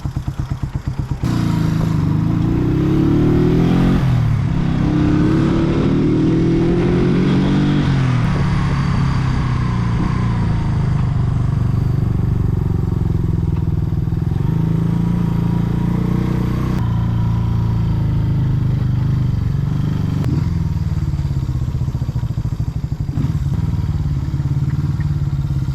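A 1970s Honda motorcycle ridden on the road, its engine droning loud and close for the whole stretch, revving up and down through gear changes with wind rumble and no talk.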